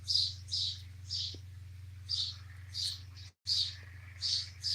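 Birds chirping outdoors in Kentucky in bursts of high, bright calls, fairly close, over a steady low hum with a brief dropout midway.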